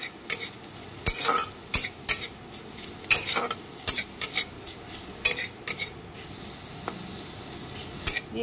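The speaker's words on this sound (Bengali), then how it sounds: "একটু 2 মিনিট একটু ভাজা ভাজা হতে দিই।" Bread pulao frying with pav bhaji masala and being stirred in a pan: a steady sizzle under repeated, irregular scraping strokes of a utensil, close by.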